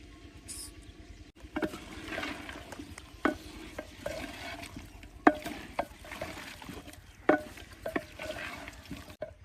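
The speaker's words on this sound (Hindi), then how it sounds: "अब यहाँ पर चिकन को अच्छी तरह भून लेंगे।" Chicken browning in a pan after tomato, ginger, salt, red chilli and turmeric go in: a steady sizzle with irregular scraping and clinking as a spoon stirs, close and moderately loud, no talking.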